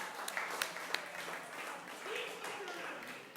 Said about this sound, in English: Round of applause for science.